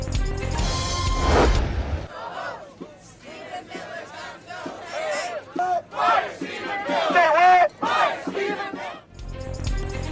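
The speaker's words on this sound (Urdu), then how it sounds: "شرکا کی نیتن یاہو اور صہیونیت کے خلاف شدید نعرے بازی" Protesters in Tel Aviv chant slogans against Netanyahu and Zionism, a crowd of voices shouting in rising, rhythmic bursts between brief pauses, with a louder rush of crowd noise at the start and end.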